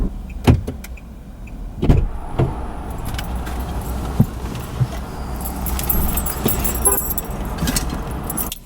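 Someone gets into a car: keys jangle, a door thuds and clicks, and small interior knocks and rattles follow over a low steady background hum, close by with no talk.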